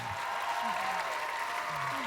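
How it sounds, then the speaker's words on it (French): Audience applause for Mariana, the big winner on a Quebec game show, steady and fairly loud, filling the whole stretch with a host's voice rising briefly over it. "On applaudit notre grande gagnante, Mariana!"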